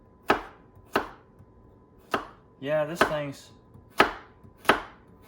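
An Esee JG5 knife chops through carrots in a kitchen: six sharp, evenly spaced chops ring out close and loud, with a brief spoken remark between them in the middle.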